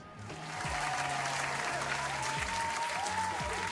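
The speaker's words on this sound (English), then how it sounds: "I'm going to pause for Corey to insert applause effect here" Applause dropped in as a sound effect, a dense wash of clapping that swells in over the first half second and holds steady and loud to the end. Faint low tones sit underneath it.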